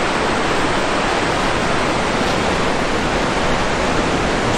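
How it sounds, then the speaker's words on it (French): Låtefossen waterfall in Norway roars with fast-running water, a dense, loud and unbroken rush filling the whole scene with no voices. "On est arrivé à Lattefossen, qui est une des cascades les plus connues de Norvège."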